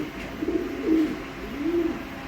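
A racing pigeon, a high-quality hen, gives soft, low coos in three short phrases, close by and fairly quiet, with no talk over them.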